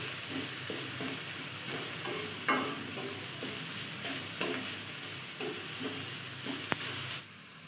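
Ground spices and chili powder fry in a pan for a vegetarian potato and pointed gourd curry with gram flour, giving a steady close sizzle broken by stirring scrapes, then stopping abruptly near the end.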